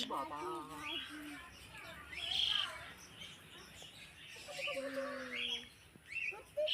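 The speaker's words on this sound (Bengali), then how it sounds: "ওরা দেখো এটা পাখি ধরেছে পাখির বাচ্চা এটা নিয়েই সারাক্ষণ ঘুরে বেড়াচ্ছে" Faint, thin chirps and squeaky calls of a myna chick come in short bursts, close by, with some quiet background voices.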